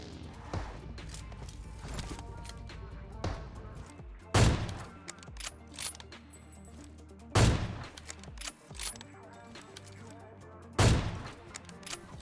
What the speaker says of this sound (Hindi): लेकिन तभी सामने कार 98 चल रही थी, 2 बंदे एक दूसरे के मार रहे थे।